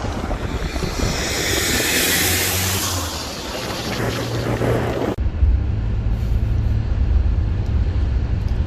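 A vehicle engine idles close and loud in a low, steady rumble beneath heavy wind noise, running sooty with its idle screw out of adjustment.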